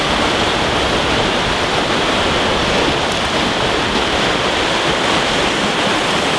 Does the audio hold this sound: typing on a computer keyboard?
no